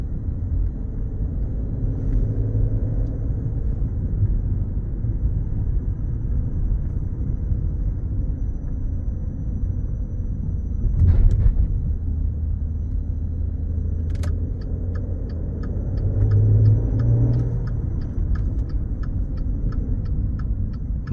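A 2018 Maserati Ghibli drives in sport mode, heard from inside the cabin as a steady low engine and road rumble, with a brief swell of engine note near the middle and faint ticking later.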